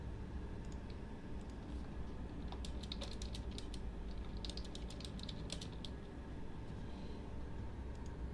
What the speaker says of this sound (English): just press your keyboard then